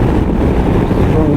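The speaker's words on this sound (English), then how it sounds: "A lot of buffeting, yeah." Wind buffets hard against the rider's helmet on a 2019 Honda CB500X motorcycle, a loud, constant low roar that fills the whole moment.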